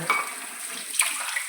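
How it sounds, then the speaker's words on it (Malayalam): Water is poured into a cooking pot while jackfruit curry is prepared with turmeric and salt, giving a short, close splashing and trickling with a light clink of the pan. "നമ്മൾ വെള്ളം ഒഴിച്ച് വേവിക്കാൻ വെക്കണം"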